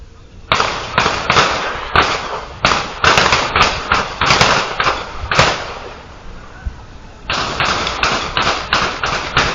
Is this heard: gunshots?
yes